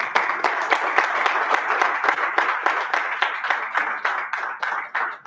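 An audience at a Toastmasters club meeting claps steadily, individual hands audible in a dense, close rhythm that thins slightly toward the end.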